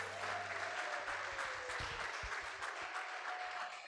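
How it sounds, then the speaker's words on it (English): A workshop audience gives a round of applause, dense continuous clapping that sounds fairly distant and soft, holding steady for several seconds. "Please give us a round of applause."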